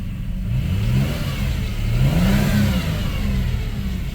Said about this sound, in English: All right, definitely idle's rough.